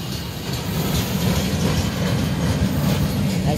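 Union Pacific ET44AH 2601 locomotive leading a military train through downtown El Paso, Texas; continuous loud rumble and clatter of wheels on rails passing close by, steady throughout with no talk.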